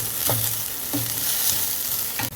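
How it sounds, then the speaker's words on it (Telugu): Sago upma stirred in a pan after salt is added: a low frying sizzle runs throughout, broken by three scraping stirring strokes at irregular intervals, close and fairly loud, with no voices. "సాల్ట్ వేసుకొని బాగా కలుపుకొని వేసుకున్నాం"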